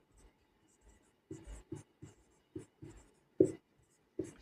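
Chalk or marker scratches across a board during a history lecture in a series of short, irregular strokes and taps, fairly close and quiet, with faint whispery sounds between them.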